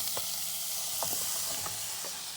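Cabbage hits a hot pan for Moroccan zaalouk and sizzles with a bright steady hiss, broken by a few soft clicks of stirring, close up and without voices.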